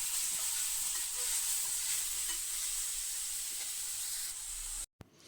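Grated beetroot stir-fried in a pan with ginger garlic paste, a constant loud sizzle with soft stirring scrapes, cut off abruptly near the end.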